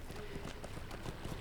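Horse hooves clip-clop steadily in Lord of the Rings Online, a faint continuous trot with quiet game ambience.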